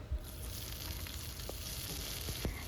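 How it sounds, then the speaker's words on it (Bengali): Diced potatoes dropped into hot mustard oil with dry red chilli and panch phoron, giving a faint, continuous sizzle and frying crackle with a few light knocks, no talking. "ফোড়নটাকে কয়েক সেকেন্ডের জন্য একটুখানি নাড়াচাড়া করে এর মধ্যে দিয়ে দেবো কেটে রাখা আলুটা"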